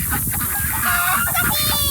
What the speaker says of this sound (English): Oh, there's one chicken.